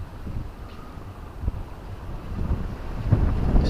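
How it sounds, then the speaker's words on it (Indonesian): Strong gusting wind buffets the microphone at a river mouth during fishing from a bagan, a low rumbling roar that swells and grows louder near the end. "Angin tambah kencang."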